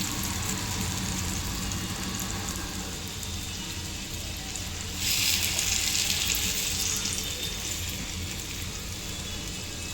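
Spoonfuls of batter hit an oiled appe pan, and a bright sizzling hiss swells midway, then holds steady over a low background rumble.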